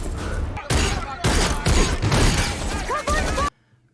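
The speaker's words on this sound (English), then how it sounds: "Were those gunshots?" Rapid bursts of gunfire crackle through a scene from the science-fiction TV drama The Expanse, season 4 episode 5, several loud overlapping volleys over about three and a half seconds before cutting to silence.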